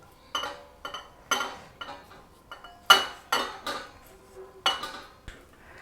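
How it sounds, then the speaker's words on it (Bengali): A spoon scrapes and taps against a bowl as spiced mung dal filling is transferred into it, producing a series of about ten sharp, close clinks at an uneven rhythm with no talking. "একটা বাটিতে আমি ঢেলে নিয়ে নিচ্ছি।"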